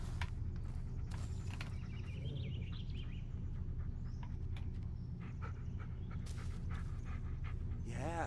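A dog pants steadily and close by in the video game Blair Witch, with faint footsteps and ambient forest sounds underneath.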